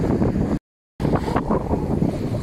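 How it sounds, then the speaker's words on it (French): A sailboat under sail pounds through choppy sea in strong wind, a loud, rough rush of wind and water with a brief dropout, then thuds of the hull hitting waves. "Le bateau il tape."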